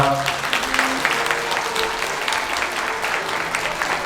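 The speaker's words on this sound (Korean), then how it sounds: "큰 박수 부탁드립니다." Wedding guests in a convention hall ballroom applaud the bride and groom, a steady full wash of clapping with faint background tones and murmurs beneath it.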